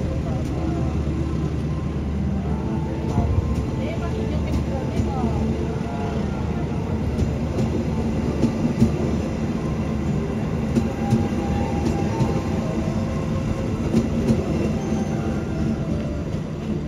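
The Argo Muria train rumbles steadily as it departs Batang station, a continuous loud roll of wheels and carriages close by, with people talking over it.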